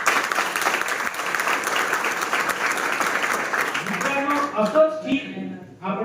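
Audience applause at an entrepreneurship motivation day held at a government industrial training institute: dense, steady clapping from a crowd for about four seconds, then thinning to scattered claps as voices begin to murmur.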